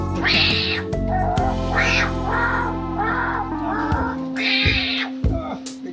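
A person mimics a cat with a series of nasal meows, some longer and higher, delivered close and clearly over a faint hum.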